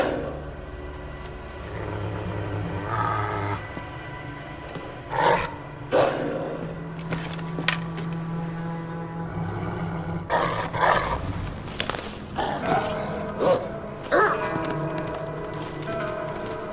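A wolf pup growls in Assassin's Creed Valhalla, set in Asgard, with repeated snarling bursts and short roaring growls rising over a steady ambient background.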